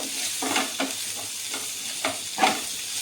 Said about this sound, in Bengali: পেঁয়াজ কুচিগুলি আমি এখন প্রথমে ভেজে নেব।